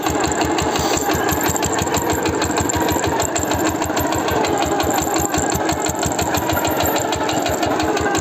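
A small tractor engine runs steadily while driving, a loud, close, rhythmic mid-pitched chugging with a rapid even pulse throughout and no breaks or talk.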